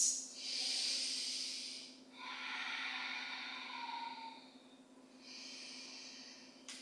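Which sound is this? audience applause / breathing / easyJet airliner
breathing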